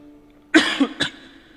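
A short cough followed by a second harsher cough from one person at a live Hindu scripture recitation, close and fairly loud against a quiet background.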